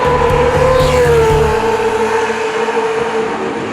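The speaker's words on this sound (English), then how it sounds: "myself, James Cottingham, and Olly Bryant returned with a GT40 for the Spa 6 Hours endurance race" A Ford GT40 race car at the Spa 6 Hours endurance race holds a loud, continuous high engine whine with a sliding pitch, while a lower mechanical drone fades after the first seconds.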